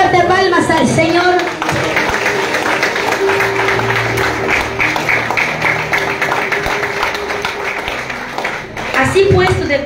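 A church congregation claps hands in praise during a worship service, with dense, steady clapping and voices over sustained music that run nearly the whole time before easing near the end.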